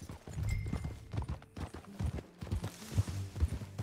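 Horse hooves clip-clopping at a steady walking rhythm on hard ground, moderately close, with a faint snort mixed in.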